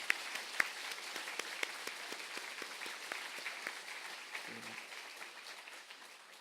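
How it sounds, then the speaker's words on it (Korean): A church congregation at a Sunday worship service breaks into sustained applause, a dense, even wash of many hands clapping in a large hall, with a few sharper claps standing out early before it slowly fades. "교회를 위해서 섬기신 모든 분들 위해서 우리 큰 박수로 우리 격려 하나님께 영광을 돌리겠습니다."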